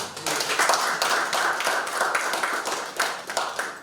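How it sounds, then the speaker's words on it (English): A political gathering's audience claps loudly and steadily for nearly four seconds, the dense hand-clapping filling the space with only small swells in intensity. "I've said so many things since I didn't hear you clap like this."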